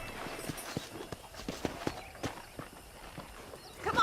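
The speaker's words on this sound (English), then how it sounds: "I picked out a fine horse for you" Horse hooves in Red Dead Redemption clop at an unhurried walking pace, a series of soft, evenly spaced knocks on hard ground, fairly faint against a quiet background.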